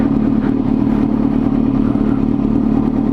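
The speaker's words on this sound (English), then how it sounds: "Your bike is just going by itself" A beginner's motorcycle idling along at low speed after the clutch is released, a loud, steady, close engine drone with a constant clattering rumble and no revving, with no talking.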